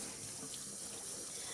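Cold tap water runs steadily into a sink to soak canvas pillowcases before dyeing, a continuous close hiss of flowing water with no pauses.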